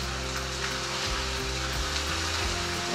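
Chuck steak sears on a hot cast iron grill, giving a loud, steady sizzle and spatter close up, with low crackling pops shifting through it and no voices.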